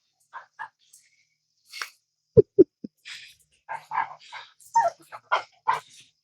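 A dog gives a few sharp, loud barks amid scattered higher whines and yips, with short pauses between outbursts, close by.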